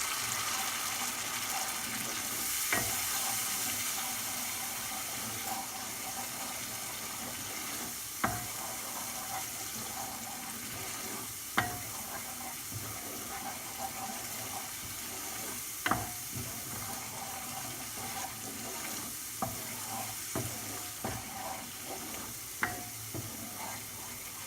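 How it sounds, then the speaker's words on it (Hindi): Tomato paste and spices sauté in a pan with a steady soft sizzle, punctuated every few seconds by a spoon tapping and scraping the pan, close and fairly quiet, with no talking. "इसे फ्राई करना है, अच्छा से सौटे करना है टोमेटो पेस्ट को"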